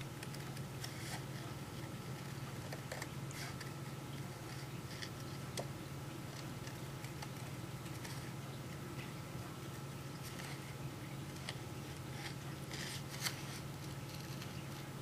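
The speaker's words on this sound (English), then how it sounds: "I'm going to cut to those areas and cut that part of my image out" Scissors snipping paper to cut out an image for a handmade Valentine's Day card, a steady run of small crisp cuts close by over a low constant background hum, with no talking.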